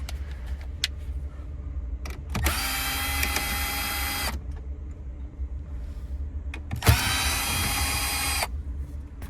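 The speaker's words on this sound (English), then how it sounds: "you're gonna notice over here two T15 Torx T15 screws that you need to remove" A power screwdriver whirs in two bursts of about two seconds each while removing T15 Torx screws from the radio of a 2009–2017 Volkswagen Tiguan, with faint clicks and handling noises in the quiet pauses between.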